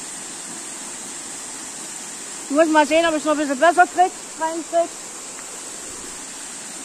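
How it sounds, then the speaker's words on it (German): Romkerhalle waterfall in the Harz, in the rain, gives a steady broadband roar and hiss throughout, with someone speaking briefly in German over the rushing water. "Ich bin jetzt beim Rompkehaller Wasserfall."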